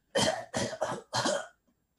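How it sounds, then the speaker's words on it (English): Four harsh, close coughs in quick succession with a spluttering rasp, from a player acting out a character reviving in a tabletop roleplaying game, followed by quiet. "So I cough and splutter back to life."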